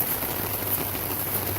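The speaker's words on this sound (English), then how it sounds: "We're very grateful for rain." Steady rain falling on surfaces outdoors, a dense continuous hiss of drops close by with no talk.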